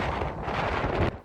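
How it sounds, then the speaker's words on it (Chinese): Strong typhoon wind on the coast near a fishing harbour, loud buffeting gusts roaring across the microphone, cutting off abruptly near the end, with no talk. "现在这个风啊，你看那个风力发电转的那么快"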